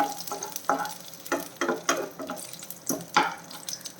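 Beef-filled snack pieces frying in hot oil in a pan, giving a steady sizzle broken by soft stirring scrapes and bursts of bubbling at irregular intervals, close by with no talk.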